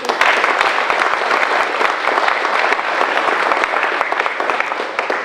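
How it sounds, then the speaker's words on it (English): Steady, dense applause from a large crowd at a civic announcement event in Port Moody, loud and sustained throughout with many hands clapping at once. "I'll give them a round of applause again"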